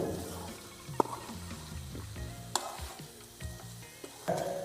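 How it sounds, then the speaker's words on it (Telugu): Masala for a hill goat mutton curry fries in a pan, a soft sizzle broken by a few sharp scrapes and clinks of stirring, close but fairly quiet, with no voices. "చూసారు కదా ఎలాగా మసాలా మొత్తం వేగింది, కలిపిందే."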